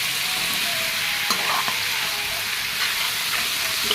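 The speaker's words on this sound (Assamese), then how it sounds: "এতিয়া ভালদৰে লৰাই ল'ম।" Vegetable khichdi frying in a pan while being stirred, a steady broadband sizzle with faint scraping touches throughout, close and continuous with no talk.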